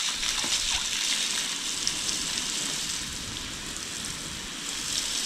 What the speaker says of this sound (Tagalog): Oh, yung sa waterfalls.